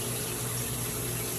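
Shower spray running steadily in a home bathroom, a dense, loud, unbroken hiss of water that fills the whole stretch with no talking.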